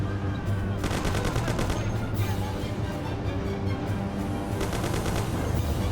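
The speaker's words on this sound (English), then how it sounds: "Come on, fire those Thompsons." Thompson submachine gun fire in the Mafia video game, rapid bursts of automatic shots in two main volleys against a loud, busy background.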